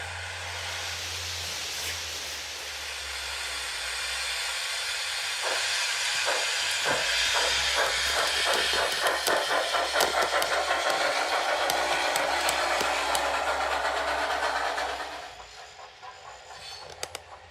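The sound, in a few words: model passenger train moving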